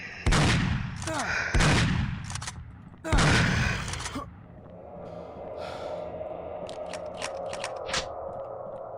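Gunfire in the sci-fi horror game Aliens Redacted, with three loud broadband bursts of shots in a hallway about a second apart, then quieter game ambience with faint clicks.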